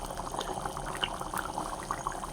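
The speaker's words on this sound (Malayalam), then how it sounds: "ഇനി ഇതിവിടെ കിടന്ന് നന്നായിട്ട് അങ്ങോട്ട് തിളച്ച് വേവട്ടെ." A thick prawn curry bubbles and simmers in a clay pot, soft pops and gurgles rising steadily up close.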